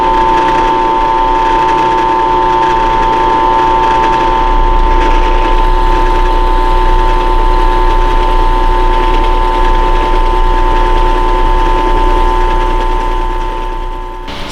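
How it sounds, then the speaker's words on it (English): A power drill bores a hole through a lightsaber part with a steady, loud mechanical whine and strong tonal hum, running continuously and deepening slightly partway through. "Going to drill a hole through this guy real quick."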